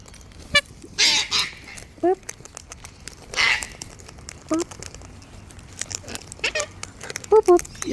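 Several geese honk close by in short bursts and pairs, interspersed with softer clucks and pecking patter while they feed; a person speaks to the birds in between the calls.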